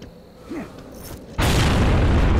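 Grenade blast in Gears of War: a quiet stretch with faint voice-like sounds, then a sudden loud boom that rolls into a sustained roaring rumble.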